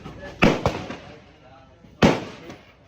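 Two sharp, loud gunshots from a 5.56 AR pistol fired at an outdoor range, one close pair early and a second shot about a second and a half later, with people talking quietly around them.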